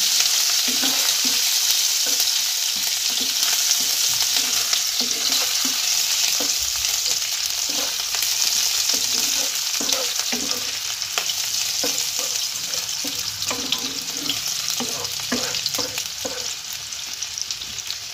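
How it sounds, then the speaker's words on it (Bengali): Chopped green chillies fry in hot oil with a loud, steady sizzle that runs throughout, broken by repeated scraping and clicking stir strokes close to the pan; no one speaks. "এবার ভালোভাবে এটাকে তেলেতে ফ্রাই করে নেব।"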